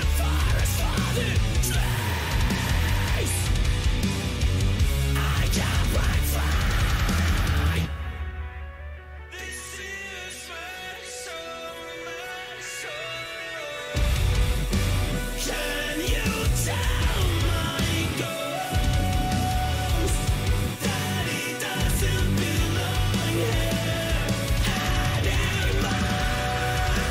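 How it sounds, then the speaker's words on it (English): A metal song plays loud and dense, with heavy distorted guitar riffs, pounding drums and harsh screamed vocals, dropping into a brief quieter break midway before the full band crashes back in. "Very powerful riffs and drums that really go together really well."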